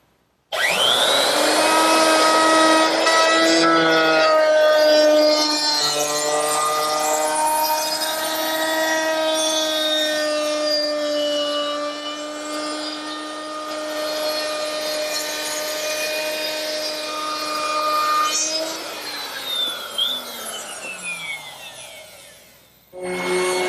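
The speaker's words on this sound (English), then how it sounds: "I want to chamfer the bottom edge of the top, and to do that I'm just going to use a chamfering bit in my router." Router fitted with a chamfering bit cuts the bottom edge of a wooden candle stand top, a loud steady whine that holds for about eighteen seconds with slight pitch shifts before spinning down and fading.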